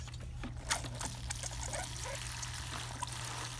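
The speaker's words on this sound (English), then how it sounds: "We'll add some more water." Water poured from a container onto a freshly transplanted seedling (sunflower, pumpkin or poppy), a soft steady trickle and splash close by, with a low constant hum underneath and no talking.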